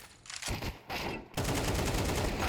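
Galil rifle fire in a competitive Counter-Strike match on Mirage, rapid bursts of close, loud shots that break off briefly and then resume as a sustained volley.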